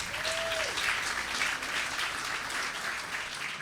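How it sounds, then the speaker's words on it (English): An audience at a city State of the City event applauds the Mayor Pro Tem in a steady round of clapping from a crowd. It sounds moderately distant and holds even for a few seconds. A faint brief tone rises early on. "Let's give her a round of applause."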